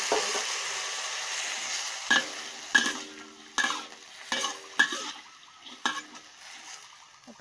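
Bean sprouts, peas, celery and a little garlic are stir-fried in a pan under a steady hiss. Several distinct spatula scrapes and clacks land roughly every half-second to second.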